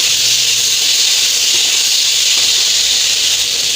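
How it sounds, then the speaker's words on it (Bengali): Elephant foot yam fries in oil with cumin and green chili, a loud steady sizzling hiss that holds evenly throughout without pause. "এখন এই ওল ভাজছি, ওর মধ্যেই এই ভাজা জিরে আর কাঁচা লঙ্কাটা দিয়ে একসঙ্গেই কষে নেব।"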